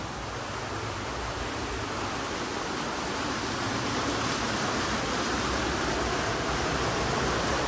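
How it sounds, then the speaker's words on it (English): Water rushes loudly and continuously past a timber water mill, a dense roaring wash of sound that swells slightly toward the end, with no voices. "The water is very noisy."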